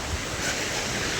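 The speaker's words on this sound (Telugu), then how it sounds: "ఇప్పుడే జస్ట్ గాలి ఎత్తుంది," A strong gust of wind sweeps past outdoors just before a thunderstorm, a steady broadband roar buffeting the microphone from start to finish with no voices.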